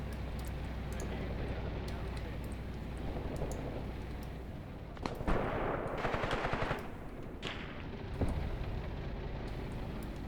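Machine gun fire in the WWII tank battle game Graviteam Tactics Mius Front, sustained rattling bursts over constant battlefield rumble, with a louder cluster of rapid shots midway and another burst later.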